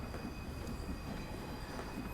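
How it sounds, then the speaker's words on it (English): A moving freight train in Train Sim World 2 rumbles steadily at night between Mold Junction and Edge Hill, continuous rail and wheel noise, a dense low roar that holds even throughout, with no voices. "Just gonna creep this train in here."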